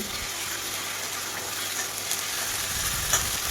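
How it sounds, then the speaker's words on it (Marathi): Tomato and coconut paste for pav bhaji fries in hot oil, giving a close, continuous crackling sizzle with a faint scrape or two partway through. "टोमॅटोची पेस्टही छान अशी तेलामध्ये तळून घेतलेली आहे"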